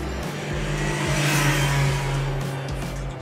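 Road traffic passes outside: a car engine whirs and swells loudly, rising to a peak and then easing off, with a steady low rumble throughout.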